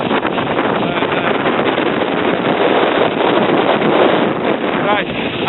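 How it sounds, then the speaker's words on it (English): A strong, cold wind roars across a hilltop on the Old Man of Coniston. It buffets the microphone with loud, continuous rushing noise. "The wind is ripping through."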